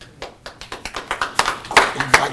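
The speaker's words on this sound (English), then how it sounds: "I got to clap on that." Hand clapping at a city council meeting, about nine sharp claps in a steady rhythm that grow louder and closer as they go, with no talk over them.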